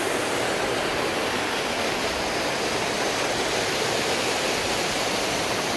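Nà Tẩu waterfall in Cao Bằng, Vietnam roars as a steady, dense broadband rush of falling water, close and loud, unbroken throughout with no voices.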